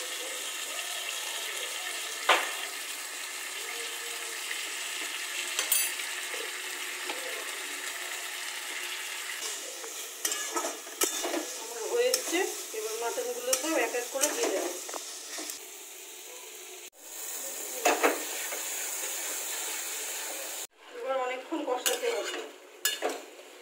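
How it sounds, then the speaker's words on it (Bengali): Bengali-style mutton kosha with turmeric and ground black pepper sizzles in a pan while being stirred, with repeated spoon clatters and scrapes against the metal over a steady frying hiss. "একটু নাড়াচাড়া করছি"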